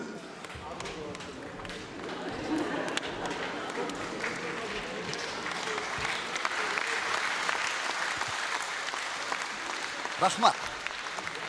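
Audience applause at a live comedy show in Kyrgyzstan, a sustained wash of clapping from a crowd that swells in the middle and fades, with a voice briefly speaking near the end.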